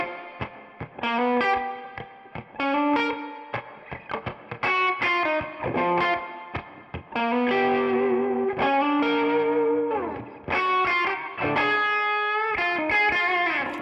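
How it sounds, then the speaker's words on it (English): Electric guitar on a Strandberg's bridge pickup with controlled, moderate gain, playing phrased chords and single-note lines with short gaps between them, clear and up front with no talking. "So I was using the bridge pickup of this guitar, and surprisingly this guitar actually has a really cool kind of controlled gain."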